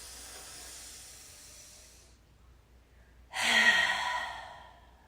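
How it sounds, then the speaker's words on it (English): A long, deep breath through the nose during a pranayama breathing practice, a soft airy inhale fading out, a short pause, then a louder, rushing exhale close to the listener. "long, deep inhale through the nose, filling up those lungs with air"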